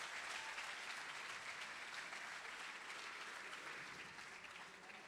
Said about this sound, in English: One more round of applause for Ryan and Jeff.